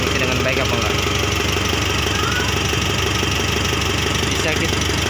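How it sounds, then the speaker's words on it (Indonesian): A Mitsubishi All New Triton 2.5 GLS intercooler diesel idles after an engine overhaul, with a loud, steady, close rumble and a faint knocking rhythm throughout, without pauses. "mesin hidup."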